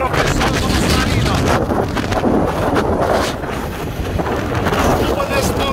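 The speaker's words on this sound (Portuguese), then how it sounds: "Chuva nesse momento aqui no gigante Açu de Araras." Rain pours over the Açude Araras reservoir, a dense, steady roar of broadband hiss that stays loud and close throughout with no pauses, blending into a wind-like rumble.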